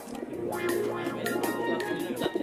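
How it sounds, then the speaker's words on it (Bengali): Pigeons coo softly and repeatedly at close range in a rooftop cage, their low throaty calls overlapping with faint rustling in the background. "এই খাঁচায় কয়েক লাখ টাকার কবুতর"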